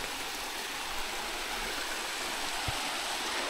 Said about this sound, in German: Aber auch der Wasserfall ist gar nicht mal so schlecht.